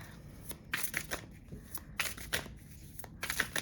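Oracle cards being shuffled by hand, a run of soft papery riffles and slaps coming in short bursts with brief pauses between them, close and fairly quiet with no talking.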